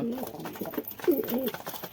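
Pigeons in a home collection of fancy breeds coo softly in a couple of low, rolling phrases, close by and fairly quiet.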